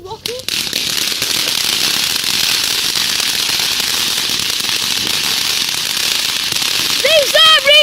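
Fireworks going off on bonfire night: a dense, continuous crackling hiss fills the whole stretch, like a crackling fountain firework, with a few sharp whistling tones rising near the end.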